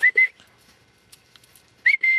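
A person whistling two short bursts of two steady high notes each, close and clear, separated by a quiet pause with faint background rustle.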